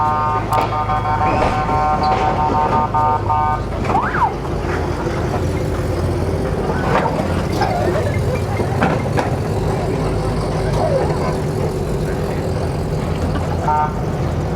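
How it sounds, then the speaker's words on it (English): At a modified car show at Bicester Heritage, lowered cars roll out past the listener with a steady, loud engine and exhaust drone, while a horn-like tone sounds briefly early on and background crowd noise continues. "we've got some low riders rolling out right now"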